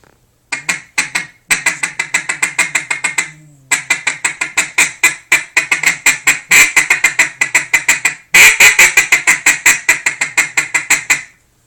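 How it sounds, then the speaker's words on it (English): A Don Dennis duck call blown up close, loud quacks in rapid runs and short bursts with brief pauses between sequences. "I like to throw in some quacks and maybe a few quacks in a row"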